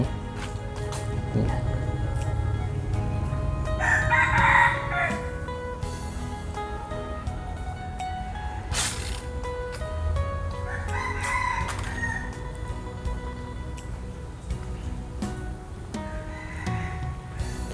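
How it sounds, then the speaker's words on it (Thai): A rooster crows twice, a few seconds apart, at moderate distance over steady outdoor background noise with low rumble, at a temple in Vientiane, Laos. "ทุกคนได้ยินเสียงไก่ขันบ่"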